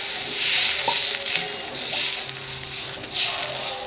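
Water poured into a pan of oil-released masala with potatoes for papad dalna sets off a loud, steady sizzle. It keeps hissing and bubbling throughout, with a few soft clinks of a utensil.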